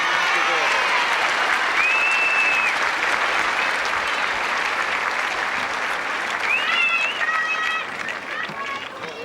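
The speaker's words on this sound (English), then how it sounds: "applause for Kim Warwick and Brian Teacher for a great match" A stadium crowd applauds after the 1980 Australian Open tennis final between Brian Teacher and Kim Warwick, broad sustained clapping with whistles rising above it, thinning toward the end.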